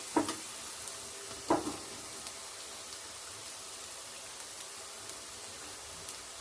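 Cauliflower pieces for gobi manchurian fry in hot oil with a steady, soft sizzle, broken by a couple of sharper clinks or pops early on and a few faint ticks later.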